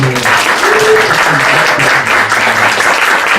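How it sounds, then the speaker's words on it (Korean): A church congregation applauds a newly appointed women's mission society president during a Sunday service, a steady wash of clapping that fills the room, with some voices underneath. "우리 김은숙 집사님 여전도 회장님으로 섬겨주실 텐데 여러분 박수로"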